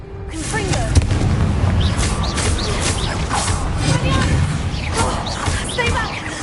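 Confringo blasting spells in Hogwarts Legacy go off over and over as dense, booming combat noise, with rumbling impacts and crackling bursts packed through the whole stretch alongside brief chirps and effects.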